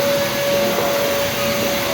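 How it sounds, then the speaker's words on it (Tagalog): A wheeled vacuum cleaner runs with a steady, loud rushing drone and a thin constant whine, unbroken throughout and with no voices. "Vacuum na may gulong."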